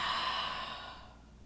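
A single soft exhale during a relaxing yoga pose, close and breathy, fading out over about a second.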